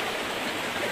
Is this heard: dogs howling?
no